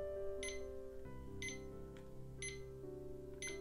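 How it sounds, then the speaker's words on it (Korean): Short electronic alarm beeps from a Muji digital clock repeat in bursts about once a second over a steady tonal background, clear and close. "알람 볼륨을 조정할 수 있다는 점입니다"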